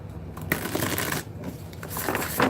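Starman Tarot cards being shuffled close by, a steady rapid riffling and slapping of card stock with brief pauses and a louder burst at the end.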